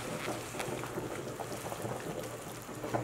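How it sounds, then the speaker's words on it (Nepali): A whole chicken boiling in a covered pot for soup, giving a steady, dense bubbling and simmering hiss with faint pops, close and continuous, no talk. "होल चिकन उम्लिँदैछ अहिले यहाँ सिङ्गो यो कुखुरा"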